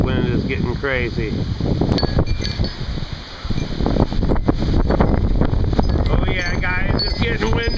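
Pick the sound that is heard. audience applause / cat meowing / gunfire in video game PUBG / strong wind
strong wind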